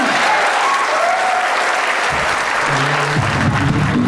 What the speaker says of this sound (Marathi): तुमच्या सगळ्यांसाठी टाळ्या होऊन जाऊन द्या मित्रांनो